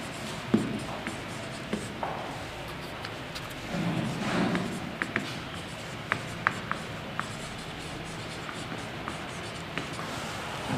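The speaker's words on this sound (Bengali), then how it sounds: "যেটা হয় সেটা আগে আমি লিখব।" Writing the algebra formula for (a+b) squared on a board in a Class Seven math lesson: soft, steady scratching strokes with small taps, fairly faint in a quiet room.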